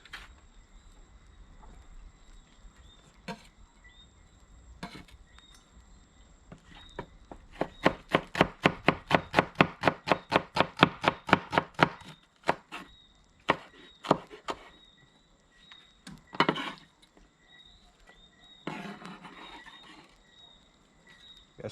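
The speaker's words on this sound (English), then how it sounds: "Just rough chop them onion." A knife rough-chops onion on a board during a whelk catch-and-cook, a burst of quick, loud rhythmic thuds in the middle, with scattered single chops before and after.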